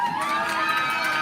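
A crowd at a girls water polo game cheers and shouts loudly in a short, bright burst of high-pitched whoops.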